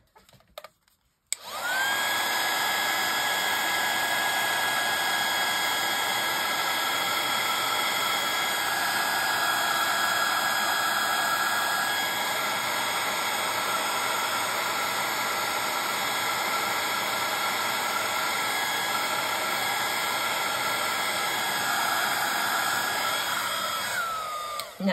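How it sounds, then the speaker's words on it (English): An embossing heat gun blows hot air steadily and loudly for about twenty-three seconds, a constant whooshing roar with a thin high whine that begins abruptly and cuts off at the end. "Perhaps I'll put my heat tool on it for a minute."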